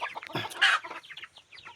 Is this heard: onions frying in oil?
no